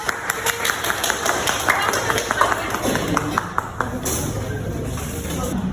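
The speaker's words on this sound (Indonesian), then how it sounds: "Beri aplaus dulu" A classroom gives a group of students a round of applause, with brisk, fairly close clapping from several people and murmured voices underneath.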